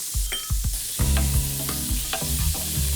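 A pear and sour cherry filling cooking in bacon fat sizzles softly, with a few stirring knocks over a steady background of low tones.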